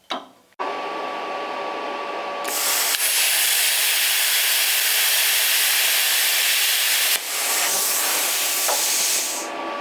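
A cheap Temu plasma cutter slicing through metal gives a loud, steady hiss up close, rising sharply after a few seconds and holding for several more before easing briefly near the end.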